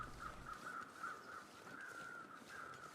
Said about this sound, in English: These crows have got to be over that dead guy.